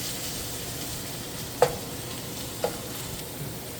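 Beef fries for enchiladas in a pan with an even, constant sizzle, broken by two sharp clicks of a utensil against the pan.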